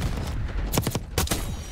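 AK-74 gunfire in Black Ops 6: two quick bursts of several sharp shots each, separated by a short pause, over low rumbling game background noise.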